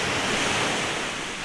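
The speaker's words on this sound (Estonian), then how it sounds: "seda merekohinat" Sea waves wash onto the beach at Peraküla, a broad, steady roar of surf mixed with some wind rumble on the microphone, loud and continuous throughout.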